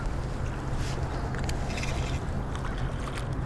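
A fishing boat's outboard motor runs steadily and close, a constant low droning hum with light wind and water noise over it, no voices.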